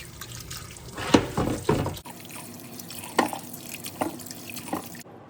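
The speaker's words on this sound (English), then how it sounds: "Wash the tomatoes." Tomatoes rinsed under a running kitchen tap, with splashing, dripping water and a few sharp knocks against the sink, close and moderately quiet, no talk.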